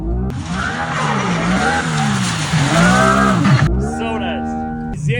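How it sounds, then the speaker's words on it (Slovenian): An electric drift car slides through a turn at top speed, tyres squealing in long wavering howls that rise and fall, then break off into quieter rubber chirps and scrubbing. "Električni avto. Evo, pa zavojka gre najlepši van z največ hitrosti."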